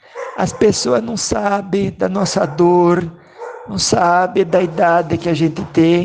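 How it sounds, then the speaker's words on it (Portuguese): A dog barks and yips in the background while someone talks steadily over it, the barking partly masked by her voice. "Olha o cachorro latindo aqui de novo"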